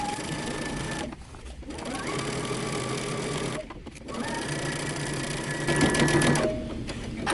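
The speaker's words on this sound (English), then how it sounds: "we're going to start stitching using 5/8 of an inch seam allowance" Close, steady stitching from a sewing machine sewing a dress seam with a 5/8 inch allowance, a continuous motor whir with two brief pauses before the running resumes.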